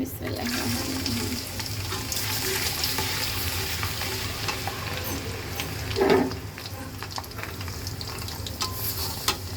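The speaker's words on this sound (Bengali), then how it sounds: "এখন আমি গরম মশলা দিয়ে দিচ্ছি রহমান রসুন কাটাগুলো দিয়ে দিচ্ছি" Garam masala and chopped garlic fry in hot oil, a dense continuous close sizzle with stirring noises and a louder splutter about two-thirds of the way through.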